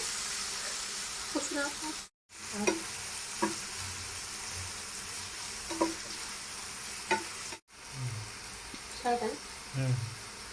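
Ginger garlic paste and cumin with curry leaves fry in hot oil while being stirred, a continuous close sizzle broken by two brief gaps, with occasional soft utensil clinks.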